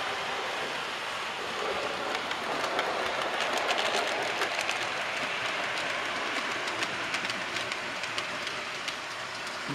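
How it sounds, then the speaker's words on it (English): Model railway train running through a loft layout, a faint continuous rolling rumble with light, rapid clicking over the track joints throughout, with no talking. "Wow, this train is away now."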